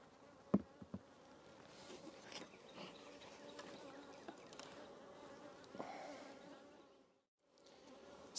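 Honeybees buzz around an open hive during a brood frame inspection, a faint, continuous hum with a few soft clicks and knocks, briefly dropping out near the end.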